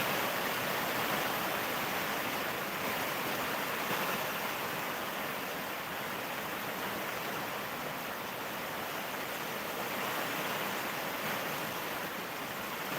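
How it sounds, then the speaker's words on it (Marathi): Heavy rain pouring down, a dense, constant roar of broadband hiss that holds steady and loud for the whole stretch with no breaks or voices. "खूपच जोराचा पाऊस चालू आहे"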